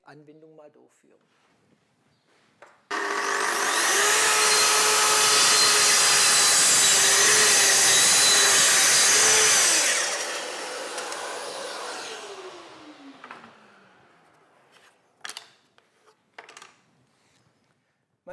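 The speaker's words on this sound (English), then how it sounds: "You can see that this saw is very comfortable and easy to use, and I quickly create an even groove." Plunge saw running along a guide rail to cut an even groove in wood, a loud steady whine that spins up, holds for about seven seconds, then winds down, followed by handling knocks and clicks, no talking.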